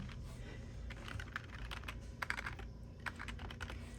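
Fingers type a note on a computer keyboard, a soft, steady run of close key clicks with irregular rhythm and a few sharper taps, fairly quiet overall.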